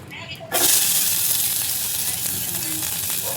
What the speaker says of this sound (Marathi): आता याच्यात आपण करू कांदा फ्राय